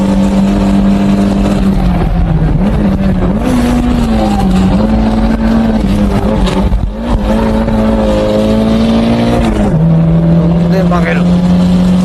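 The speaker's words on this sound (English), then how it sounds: "What I'm doing is simply turning the car with the gas pedal." Car engine revving hard and steadily while drifting, the driver steering with the throttle; a loud sustained engine note dominates throughout, shifting pitch slightly as the revs rise and fall, with tyre noise and someone talking over it.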